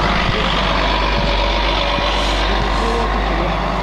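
A biodiesel city bus engine rumbles close by with a steady low drone, joined by faint repeated beeping and a few soft clunks, with no talking.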